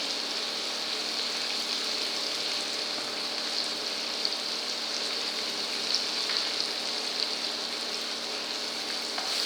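Spices and cumin and coriander powders roast in hot ghee for toor dal fry, giving a steady, even sizzle with faint stirring, heard alone.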